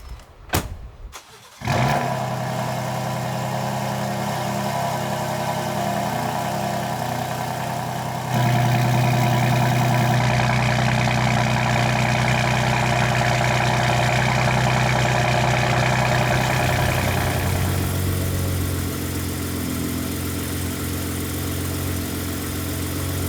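A truck engine in Baja drive mode cranks and catches, then idles loud and steady with a low droning rumble that steps up louder partway through and eases slightly near the end, no one speaking.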